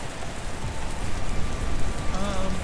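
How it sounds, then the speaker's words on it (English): Steady rain shower in the medieval city-building video game Patron, a dense continuous patter and hiss heard on its own without talking. "Some lovely April showers here."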